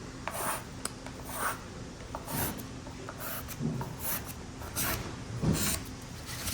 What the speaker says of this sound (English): I can automatically create a series of lines with a sharp pencil or pen.